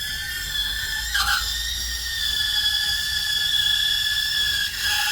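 The steam wand of a new home coffee machine hisses and squeals steadily while heating milk, a loud high-pitched whistling tone that wavers briefly partway through.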